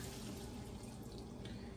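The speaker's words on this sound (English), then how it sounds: "So now I'm adding in this milk." Milk poured into a pot of soaked vermicelli for a vermicelli cake, a steady, close liquid pour and gurgle running throughout, with no talking.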